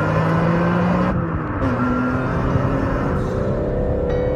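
A BMW M3 engine revs with a metallic, raspy tone, rising and falling in pitch through several sweeps, close and loud with no talking.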